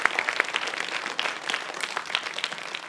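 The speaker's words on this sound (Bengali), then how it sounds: "আর ওর জন্য বড় একটা হাততালি" Steady applause from an audience clapping for a young girl about to show a science trick on a children's show, dense overlapping claps sustained throughout without speech.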